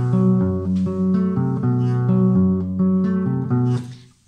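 Acoustic guitar plays a riff with a barre chord: a steady, close, clear pattern of repeated low notes and chord stabs, alone with no talking, ending with a ringing strum.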